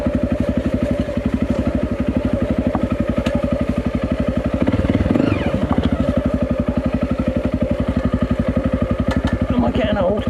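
A motorcycle engine runs close by with a steady, rapid thumping pulse as the bike is ridden around residential streets to turn it round, loud and unbroken throughout.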